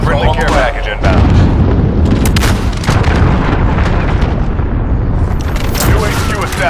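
Cruise missile strike in a war video game, a series of loud booming blasts and heavy rumbles, with a spoken voice over the top.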